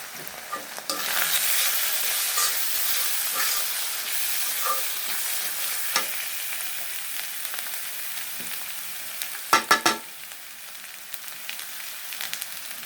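Turmeric and other ground spices are stirred into hot oil in a pan while beef curry cooks. A continuous, close sizzle runs throughout, with scraping stir strokes and a few louder clatters of the spoon near the end.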